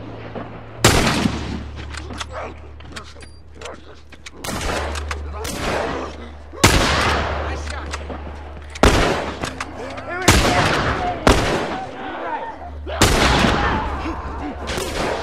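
Gunfire in The Last of Us, with six loud, widely spaced single gunshots cracking over a steady low hum, each followed by a short echoing decay.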